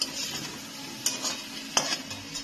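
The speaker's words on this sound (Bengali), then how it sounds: "পনির ভাজার এই তেলটার মধ্যে আলুগুলোকে লাল লাল করে ভেজে নেব" Potatoes fry in hot oil left over from frying paneer for a vegetarian aloo paneer dish, giving a steady close sizzle broken by a few sharp clicks of a utensil stirring the pan, with no talk.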